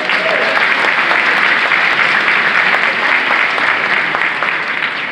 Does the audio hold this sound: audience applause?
yes